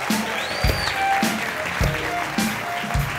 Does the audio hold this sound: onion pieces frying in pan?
no